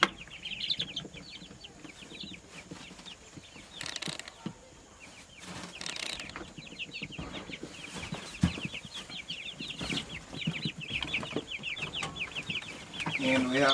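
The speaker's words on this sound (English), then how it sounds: "we have a few chickens in here too" Chickens cluck and chirp steadily inside a brooder box set up by first-time owners, with ducks nearby, a busy close chorus of short calls with some quiet talk and handling noise underneath.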